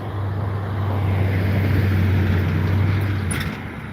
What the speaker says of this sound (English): We're gonna let this truck pass us.